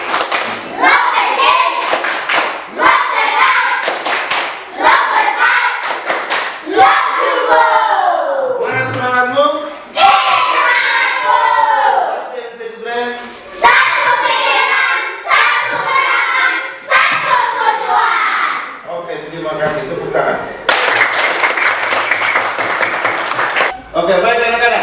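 Classroom students perform the tepuk cinta chant, voices calling out together in unison while bursts of rhythmic hand claps punctuate the phrases, loud and close, over a long repeating sequence.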